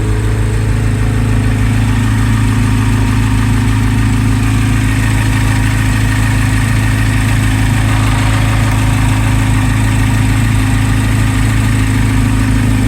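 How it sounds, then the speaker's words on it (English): A Chevrolet Corvette C8 Z06, freshly picked up from the dealership, idles during warm-up with a steady, loud, low engine hum and constant vibration throughout. Nobody speaks. "I've just been sitting here idling for 10-15 minutes."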